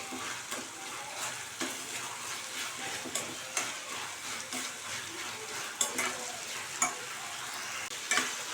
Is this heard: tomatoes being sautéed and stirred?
yes